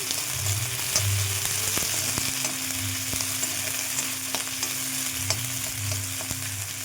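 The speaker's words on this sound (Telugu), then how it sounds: "బాగా వేయించుకోవాలి వాటిని ఈ విధంగా బాగా వేయించుకోవాలి" Food frying steadily in oil in a pan, stirred well until browned for a quick breakfast dish; a continuous loud sizzle with low rumbling bursts and occasional utensil clicks, no talking.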